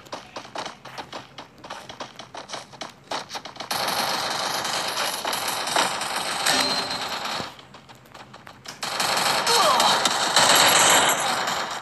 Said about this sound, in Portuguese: Começando a atirar.